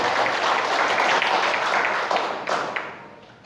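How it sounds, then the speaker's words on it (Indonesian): Audience applause at a formal speech during a national organisation congress, a steady dense clapping that fades out near the end. "Tepuk tangan buat Bang Fatailah."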